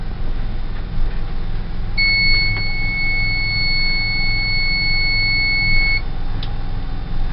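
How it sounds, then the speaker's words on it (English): A fiber splicer's heat shrink oven gives a long steady electronic beep of about four seconds to signal completion, loud and clear over a low background hum, followed by a brief faint blip. "sound you just heard said the heat shrink oven is complete"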